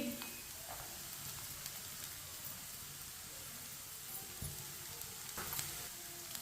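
Finely chopped cabbage sizzles softly in a pan over lowered heat for a Chinese kabab mix, a steady faint hiss with a few light clicks of stirring.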